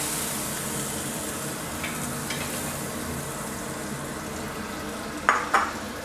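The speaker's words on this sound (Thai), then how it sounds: "ไม่ต้องผัดนานมากนะครับเดี๋ยวจะหดนะครับ" Glass noodles with water mimosa are stir-fried in a pan, a steady close sizzle running throughout, with a couple of sharp utensil scrapes near the end.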